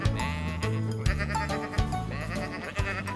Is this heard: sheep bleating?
yes